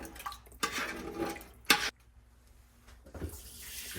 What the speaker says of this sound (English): I'm going to fill the pot almost halfway up with water.